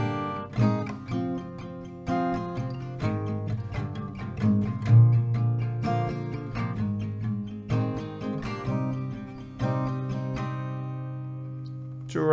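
An acoustic guitar plays the closing chord progression of a song, strummed and picked close up. Chords ring out with repeated rhythmic strokes over about twelve seconds, with no talking.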